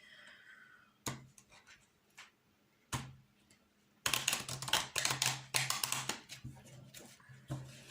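Oracle cards being drawn and handled from a deck, giving a series of sharp clicks and snaps with quiet gaps, then a busier flurry of riffling, tapping card sounds, close and fairly faint with no talking.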